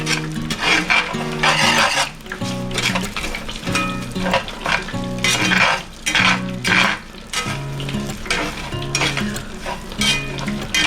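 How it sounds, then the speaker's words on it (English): A cup of parboiled rice is stirred into a hot pot, scraping and rattling in an uneven rhythm over a steady sizzle, with a spoon clinking against the metal now and then, close and fairly loud. "We got a cup of parboiled rice we're going to stir in there."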